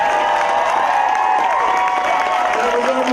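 An audience at a red carpet film premiere claps and cheers, a dense wash of applause with voices shouting and talking over it, loud and close, lasting the whole short stretch.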